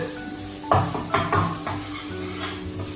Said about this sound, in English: So now we're just doing this, saute this peppers, garlic, and shallots.